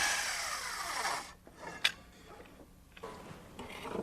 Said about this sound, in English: Now, when cutting the notches, I'm careful to saw on the waist side of the line.